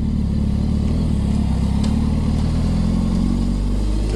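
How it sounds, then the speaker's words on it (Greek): Steady rumbling motorcycle engine, close and loud, idling with a constant low throb throughout and no voices. "Καλά κάνει και θόρυβο το μηχανάκι."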